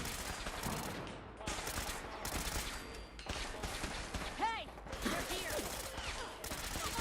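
Rapid bursts of gunfire from robots in Fallout 4, loud and repeated in several clusters with brief gaps, mixed with mechanical game effects.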